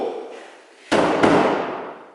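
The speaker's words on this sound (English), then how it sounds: "Police officer here by the door will give a note from the clerk of the court, who will then bang on this door." A door in a courtroom in the UK is banged on: a sudden loud thud cuts through a quiet room, followed by a second knock about a third of a second later and a fading boom.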